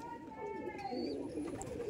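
Red Madrasi pigeons, including male birds, coo softly in a loft, a low steady murmur heard faintly beneath a talking voice.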